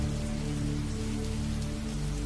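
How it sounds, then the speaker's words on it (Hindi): Heavy rain pours steadily on a rainy night, a dense, continuous hiss of drops on surfaces with a low steady rumble underneath, no voices. "एक बारिश की रात, तेज बारिश।"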